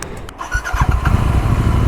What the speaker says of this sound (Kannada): ನಾವು ಇಂಟ್ರೋ ಬೈಕ್ ಮೇಲೆ ಕೂತೆ ಸ್ಟಾರ್ಟ್ ಮಾಡ್ತೆ